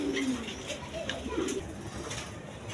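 Kaldom pigeons coo softly in a few low, throaty calls among background noise, with someone talking nearby.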